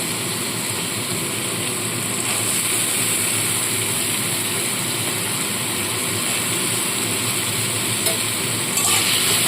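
Cut potatoes fry in hot mustard oil in a wok, giving a steady, dense sizzle that runs unbroken for the whole stretch, close and fairly loud with no talking.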